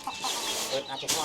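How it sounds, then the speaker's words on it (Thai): Farmyard chickens cluck in short bursts at a rural village in the Vietnamese border region on a rainy morning, heard at moderate distance over background noise. "เสียงเป็ดเสียงไก่ขันแซวอยู่นะ"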